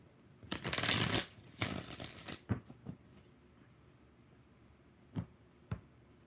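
Tarot cards are shuffled close up in two brisk riffling bursts, followed by a few softer taps and clicks of the deck settling against a quiet background.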